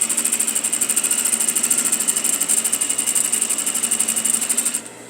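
A sewing machine stitches a welt seam, the needle beating in a fast steady rhythm with a motor whine for about five seconds before it stops abruptly. Loud and close, with no talking.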